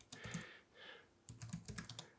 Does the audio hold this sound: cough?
no